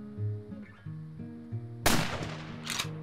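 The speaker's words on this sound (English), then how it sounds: "I figured this would be a good opportunity to use a 270 bolt action rifle" A single loud, sharp crack from a .270 bolt action rifle in the hunting game Deer Hunter 2005, fired at a whitetail deer. Quiet ambient game music plays before the shot, and a long rolling echo follows it.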